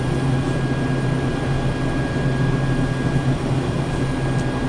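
A T-6A Texan II turboprop engine in Microsoft Flight Simulator drones steadily and loudly, with a constant low propeller hum and a high whine running throughout. Nobody speaks.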